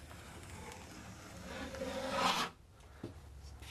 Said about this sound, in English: That's going to take a whole weekend to sand.